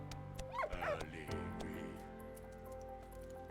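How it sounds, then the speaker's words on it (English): A dog wearing a small vest whimpers and gives a couple of rising yips, close and fairly clear, over a low steady background hum, with a person speaking nearby. "This dog is so cool."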